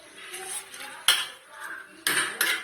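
A metal lid set down on a cooking pot of aloo palak sabji with two or three sharp clanks against a quiet kitchen background, close and fairly loud.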